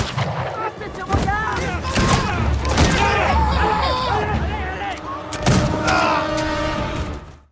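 Gunfire erupts in a film battle between George Washington's troops and French soldiers, with a burst of shots and booming blasts over frantic shouting voices and background score, loud and continuous throughout.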